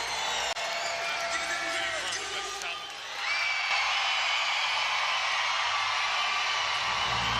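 Arena crowd at a CEBL basketball game in Montreal, Edmonton Stingers against the Montreal Alliance, cheering and whooping in a steady roar as a hype man works them up, with a commentator talking over it.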